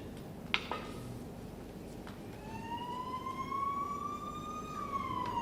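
A police siren starts with a short whoop and then rises into a steady wail that swells slowly, moderately distant, over quiet background noise with a few faint knocks, and no talking.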